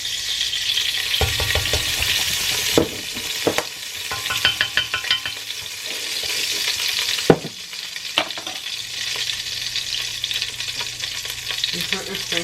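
Sesame oil and spices sizzling loudly in a frying pan close up, with a continuous crackling hiss broken by sharp clatters and scrapes of stirring.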